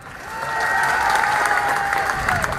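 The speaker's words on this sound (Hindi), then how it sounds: "ठोको ताली" Crowd applause and cheering swell at a Congress election campaign rally in Betul, sustained and loud for a couple of seconds with a dense, noisy texture.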